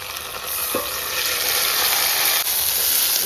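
Leafy greens tipped into hot oil, a loud, dense sizzle that swells as they hit the pan and then holds as a steady, close hiss with faint stirring.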